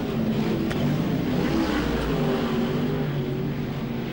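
A 1994 sprint car roars steadily down the main straight of a speedway circuit during a USA vs WA Speedweek race, a dense, unbroken engine howl that stays loud and close throughout.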